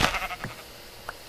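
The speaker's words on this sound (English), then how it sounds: "I'm tired of listening to the sheep" Sheep bleating in the Minecraft video game, a short burst of nasal bleats up close at the start followed by a fainter single bleat.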